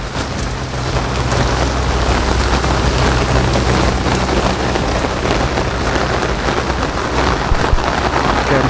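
Heavy rain pours steadily and loudly on surfaces at a retreat campus in Haridwar, a dense unbroken roar with faint distant thunder rumbling beneath, and no voices.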